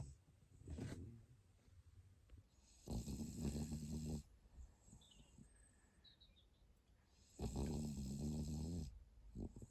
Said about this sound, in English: a French bulldog snoring